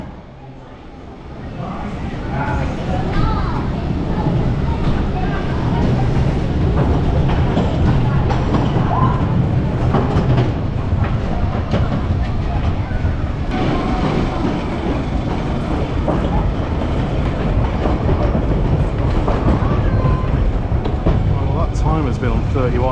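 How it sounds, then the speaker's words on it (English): A wooden roller coaster at Pleasure Beach Resort roars steadily along its track, with continuous loud rumbling and clattering that lasts throughout after a quieter start. "Back on one of the better wooden roller coasters in the country."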